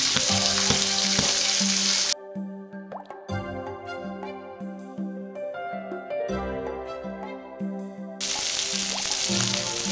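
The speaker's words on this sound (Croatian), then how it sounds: "Dok nam se meso peče na malo ulja" Pork loin frying in a little oil gives a bright, close sizzle at the start and end, with music playing over the middle stretch where the frying drops out of hearing.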